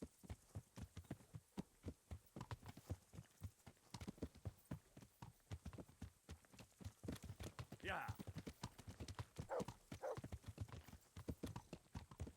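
Two horses' hooves in the medieval video game Kingdom Come: Deliverance, a steady rhythmic clip-clop running throughout, fairly close, with occasional voices over it.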